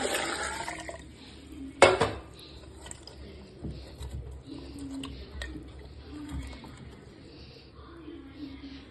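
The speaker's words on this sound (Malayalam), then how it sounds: "ആവശ്യത്തിന് വെള്ളം ഒഴിച്ച് കൊടുക്കാം." Water is poured into a pot of salted sweet corn set up for boiling, giving a brief sharp splash and clank followed by faint liquid trickling and light pot sounds in a quiet kitchen.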